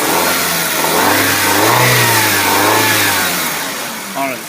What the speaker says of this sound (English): Alright, so I started the engine.